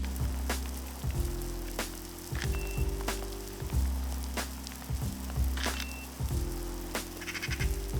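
Artificial rain falls during an outdoor photo shoot, a steady hiss of spray and drops broken by a few sharp taps, with low rumbling beneath, no talk over it.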